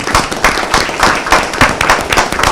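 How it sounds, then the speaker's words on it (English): Applause at a city council meeting: a small group claps in a brisk, uneven patter of hand claps that stays fairly close and loud for a few seconds, with no talking over it. "Let's give a round of applause for these guys."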